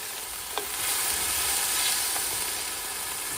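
Diced onion and chopped green pepper sizzle in olive oil, a loud, constant crackling hiss up close, with a couple of soft clicks from stirring and no speech.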